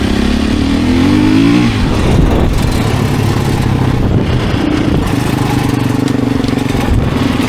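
A Beta 250 RACE 2026 enduro dirt bike engine revs loudly and close, rising in pitch, then settles into a steady buzzing drone with a second engine note underneath.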